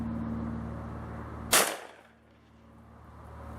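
A single sharp shotgun blast fires a Federal TrueBall copper slug outdoors, loud and close, with a quick decaying tail and no talking.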